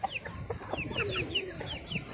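Backyard chickens clucking in short, repeated calls, fairly near, with other fowl noises and a busy outdoor background.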